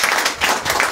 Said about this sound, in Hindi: क्या ये जबरदस्त ताली है?